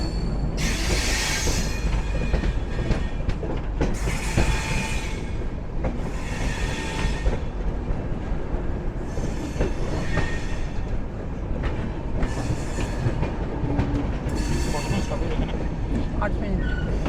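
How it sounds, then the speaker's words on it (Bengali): Upasana Express passenger train running after leaving Bareilly Junction, heard from onboard: continuous rumbling wheels and carriage noise with recurring bursts of high hissing and squeal, steady and close. "ট্রেন আমাদের বারেলি জংশন ছেড়ে দিল।"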